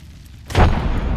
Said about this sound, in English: Throwing thermite grenade. Frag out.